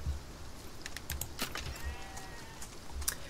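A Romanov sheep in the farming game Farm Together gives a faint, short bleat against a quiet background with a few light clicks.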